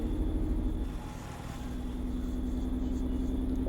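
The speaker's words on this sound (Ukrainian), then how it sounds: "Я хочу виїхати, у мене така маленька машина." Small car driving in a Roblox game: a steady, moderately loud engine drone with a low hum, holding constant for a few seconds with a slight dip midway.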